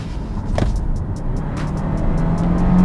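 A 2021 Hyundai Kona N-Line Premium accelerates hard in sport mode, its engine note rising steadily from inside the cabin, with a faint regular ticking over the building drone.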